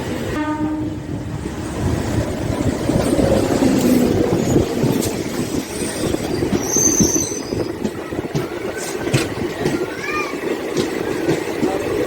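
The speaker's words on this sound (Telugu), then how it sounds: "మెడ్చల్ ప్యాసింజర్ కూడా వస్తుంది ఇప్పుడు ప్లాట్ఫామ్ నెంబర్ 3 మీదకి" A Medchal passenger train arrives at platform 3 of an Indian railway station, with a loud continuous rumble and clatter of wheels on rails, a horn sounding and high wheel squeals, close by and steady throughout.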